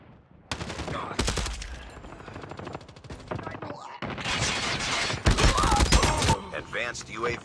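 In Call of Duty Mobile, dense gunfire comes as rapid automatic bursts with short gaps between them, loud and close, mixed with in-game voice callouts.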